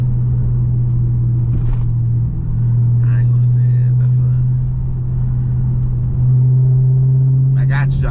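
A Dodge Charger Scat Pack's engine drones with a steady low rumble while driving in traffic, holding a constant note with slight swells, as brief faint sounds occur above it.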